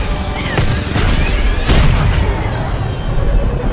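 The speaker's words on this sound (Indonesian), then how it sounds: "Ledakan terjadi di salah satu sayap." An explosion hits a plane's wing during an air attack in a film, giving a loud, continuous roaring blast with several booming bursts layered over heavy low rumble.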